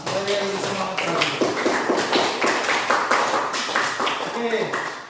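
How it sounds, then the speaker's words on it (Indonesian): A classroom full of students claps for a classmate, a dense, steady patter of hand claps lasting several seconds, with voices briefly audible at the start and end. "Diberi tepuk tangan dulu untuk Asma supaya lebih semangat lagi."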